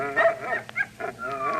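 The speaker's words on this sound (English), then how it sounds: "Dogs. That is the sound of dogs." Dogs bark and yip in a radio drama sound effect, several short bursts and whimpering cries in close succession, fairly near and clear with no talk over them.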